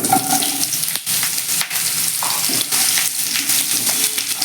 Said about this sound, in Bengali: এবার আমি আলু পটলগুলোকে ছেড়ে দিচ্ছি